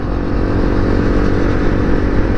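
A KTM RC 200 sport motorcycle with a 200 cc engine runs loud and close, a steady engine drone lasting the whole moment without any voices.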